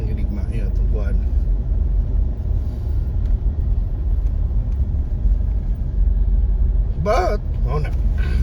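Road traffic on a Cebu City street between SM Seaside City and Mandaue City rumbles in a low, constant wash of passing vehicles, loud and close, with a person talking briefly over it near the end.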